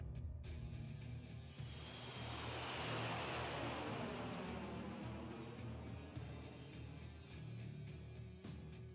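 Aircraft engine roar in the video game Tales of Xillia, a broad, loud takeoff rush that swells steadily and holds for several seconds with no talk over it.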